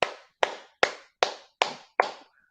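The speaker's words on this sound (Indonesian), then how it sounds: "mari kita tepuk tangan untuk Tuhan." During a religious sermon, six sharp hand claps ring out at an even, deliberate pace, each one trailing off in a short echo as if in a large hall.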